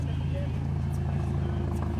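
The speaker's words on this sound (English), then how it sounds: "Now rev it." A Ferrari Roma set in race mode sends out a steady, low engine rumble, close by, with a voice speaking over it.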